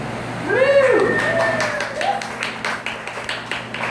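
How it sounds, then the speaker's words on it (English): A comedy night audience breaks into scattered clapping after a joke, starting under a loud whoop or cheer and settling into sparse, uneven claps that thin out toward the end. "I'm so glad I actually got applause for that"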